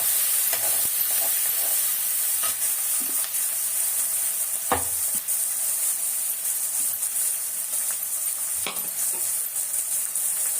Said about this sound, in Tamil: கருவேப்பிலை போட்டுக்கலாம். நல்லா வதங்கணும்.